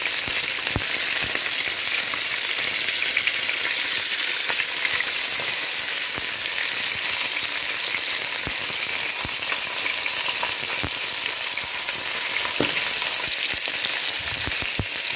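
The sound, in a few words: chicken pieces browning in a pan for fricassee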